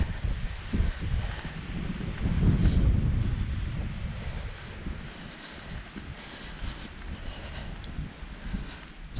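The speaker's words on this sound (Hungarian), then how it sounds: "Hogy felélénkült itt a szél." Wind gusts outdoors at a mountain lake by the Vršič Pass, a broad blustery rush that swells loudly in the middle and then eases to a steadier, fainter buffeting.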